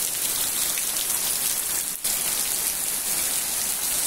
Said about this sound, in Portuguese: foi tanta chuva do nada